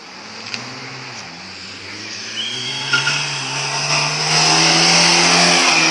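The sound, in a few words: rally car racing at Kärdla rahvasprint 2016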